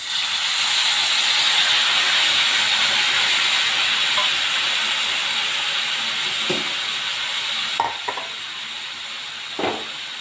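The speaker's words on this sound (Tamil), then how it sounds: "வெங்காயம் வதங்கிடுச்சு இப்போ வந்து புளி ஊற்றிக்கலாம்" Tamarind water poured into a pan of sautéed onions for tamarind rice, giving a loud, steady sizzling hiss that slowly eases, with a few small clinks toward the end.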